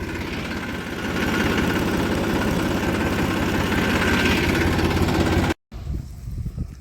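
A tractor reversing a trolley in a field, its engine throbbing steadily and loudly at low revs before cutting out abruptly near the end.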